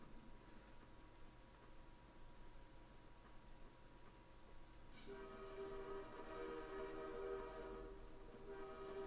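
A train in the video game Half-Life 2 approaches from the distance, its faint rumble swelling into a loud rolling roar with a sustained horn-like tone over a low ambient drone.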